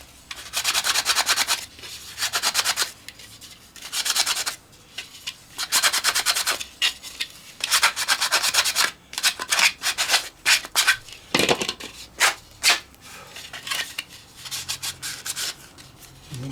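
Sanding down the plastic of a 3D-printed model cowl ring for a Warbirds Replicas FW190 build: close, loud rubbing strokes in repeated bursts, steady at first and then quicker and choppier.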